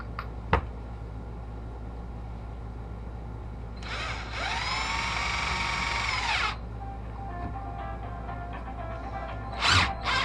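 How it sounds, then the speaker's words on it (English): A cordless power drill drives a screw into wood end grain for about three seconds, a whining, rising motor buzz close by, set against a quiet background with a few small knocks around it. "we're going to get them screwed into the end grain and then flip it over and screw it all"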